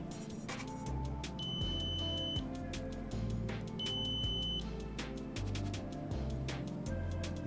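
A multimeter beeps while testing continuity on the pins of a Sega Genesis cartridge, giving a series of short, sharp electronic tones in irregular bursts over steady background music.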